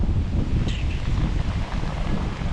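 Strong wind gusts across an open field outdoors, roaring steadily into the microphone with a low buffeting rumble and a faint brief chirp.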